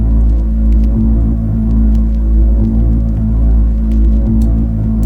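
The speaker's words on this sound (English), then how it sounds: "I got this bass from Cloud Supply." A bass sample from Cloud Supply is pitched down in FL Studio for a dark ethnic loop. It makes a deep, loud, droning hum with a slow throbbing pulse that holds steady throughout, and there are faint clicks above it.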